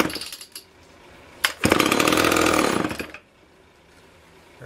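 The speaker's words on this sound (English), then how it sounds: "All right, we've got ourselves a functional chainsaw." A Homelite Super XL Model A0 chainsaw engine fires and runs for about a second and a half at a loud, steady buzz, then cuts out, with quiet handling noises before and after.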